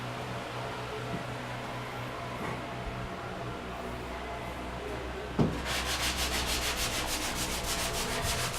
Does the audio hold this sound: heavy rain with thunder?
no